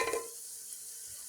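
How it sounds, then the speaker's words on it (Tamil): Garlic is stirred and fried in a pan for a fish curry, giving a quiet, brief sizzle with a light scrape of stirring at the start. "பூண்டு போட்டு அதை ஒரு கிண்டு"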